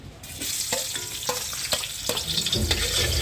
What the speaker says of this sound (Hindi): आधी पहले हमने घी लिया, इसको हमने गर्म कर लिया और ये एक हमने प्याज लिया है, ये डालेंगे।